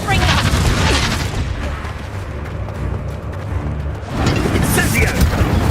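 The Confringo fire spell in Hogwarts Legacy goes off as heavy, sustained booming blasts. The loud rumble runs almost without a break, eases slightly in the middle and then builds again in a dense explosive wash.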